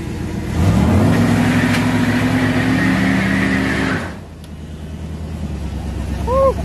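A Dodge Dakota R/T engine roars at sustained high revs for several seconds during a tire-smoking burnout with an aging transmission, then the engine note drops away under a faint voice.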